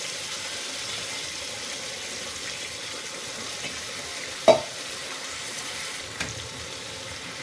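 Raw chicken stirred in a pan with fried onion and ginger-garlic paste gives a low, steady sizzle, broken by one sharp clack of a utensil and a softer knock later.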